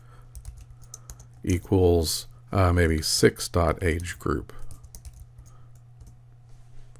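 Keystrokes on a computer keyboard as a statistics software command is typed, clicking through a spoken explanation with a steady low hum in the background.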